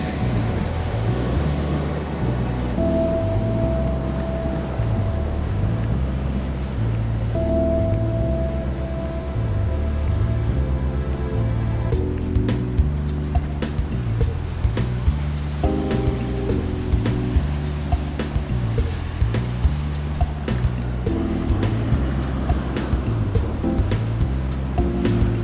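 Ocean surf at Shelley's Beach rolls in as a continuous broad wash of breaking waves, loud and steady throughout, with a low rumbling undertone and no talking.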